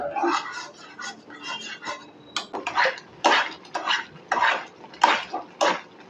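Thickening milk kheer with ghee being stirred in a pan: repeated clanks and scrapes of a metal spoon against the pan in irregular bursts, close and fairly loud, with no talking.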